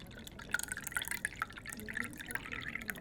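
Water trickles and drips into a glass in a quiet room, a faint run of small splashes and bright plinks lasting about three seconds with no talk.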